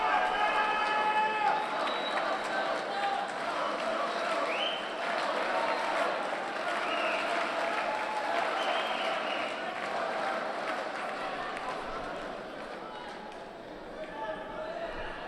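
A large crowd at a judo Grand Prix in Almaty fills the arena with continuous applause and cheering, steady and moderately loud, while a commentator talks over it.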